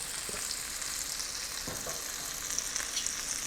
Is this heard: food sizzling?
yes